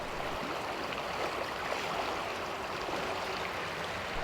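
Water flows in a steady, broad rushing wash like a stream or river, constant and moderately loud with no pauses.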